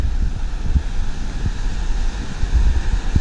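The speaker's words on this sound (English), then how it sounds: "This is what you can hear, the proper outfall" Water rushes through a concentrated weir outfall beneath a newly resurfaced bridge, a steady, close roar of churning water mixed with gusty wind buffeting.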